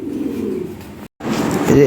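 Fancy pigeons, Lahori and Sirazi breeds, coo on a pigeon farm in a low, steady warble, broken by a brief silence before the cooing resumes and swells slightly louder.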